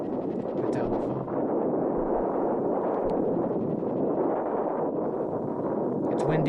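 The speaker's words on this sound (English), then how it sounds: "Why is it so windy inside?" Wind blows through a house interior in the horror video game Mothered: a steady, dense rushing roar runs unbroken, with faint clicks and rustles on top.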